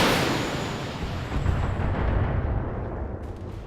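Long-range missile volley fired as indirect fire by a mech in the Battletech video game: a sustained, loud rumbling barrage of blasts and bursts that rolls on for several seconds and fades slightly toward the end.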